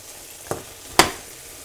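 Vegetables dropped onto a potato omelette frying in a pan, giving two quick sizzling bursts against a faint, steady background crackle.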